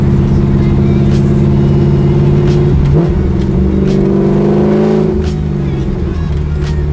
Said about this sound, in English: Driving the Camaro, windows down.